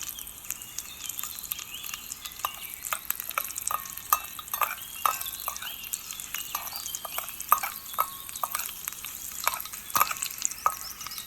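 Green chillies and curry leaves frying in a small pan of oil for lemon rice, giving a soft steady sizzle broken by crisp pops and a few sharp clicks of stirring, close and alone with no talk.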